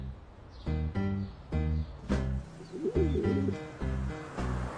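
Pigeons cooing nearby in a steady run of short, repeated throaty coos with brief pauses between them, fairly close and moderately loud.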